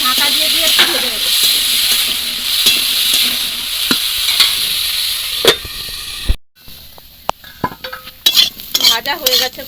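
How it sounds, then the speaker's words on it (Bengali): Bamboo shoots fry with salt in a pan, a steady close sizzle and hiss with utensil scrapes and stirring knocks, briefly cut near the middle before clattering stirs and sizzling resume. "লবণ, শুধু লবণ দিয়েই আমি ঢাকা দিয়ে দিয়ে একটু ভেজে নেব।"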